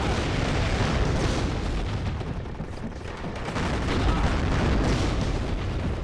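Missile strikes and explosions thunder continuously in the war strategy game WARNO, a dense, loud barrage of booms and rumbling blasts with no pause.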